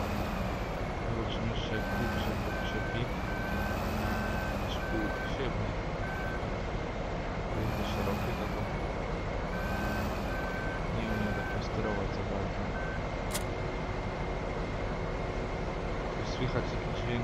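Hydraulic hitch of a Kirovets K700A tractor lifting in Farming Simulator 2015, heard as a steady mechanical whine under a constant engine drone, with a repeating electronic beep pattern over it.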